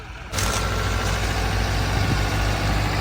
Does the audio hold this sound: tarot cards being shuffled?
no